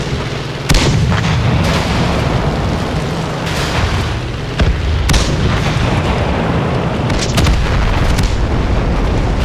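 Heavy booming cannon blasts from a Chaffee tank battle in a video game, several loud shots and explosions over a dense roar of continuous combat noise.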